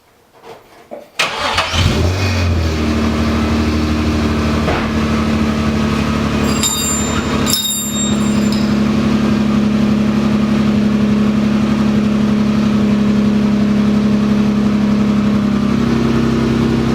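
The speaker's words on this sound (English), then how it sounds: "So we're gonna lower it and drive her out." A car with a welded differential is started after a brief quiet moment, then its engine runs loudly and steadily at idle with small rev changes as it is driven off the lift.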